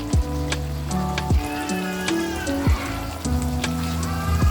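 Mutton roasting Nellore style in a pan, oil sizzling and frying steadily with faint crackles, while loud tonal beeps or chimes sound over it intermittently.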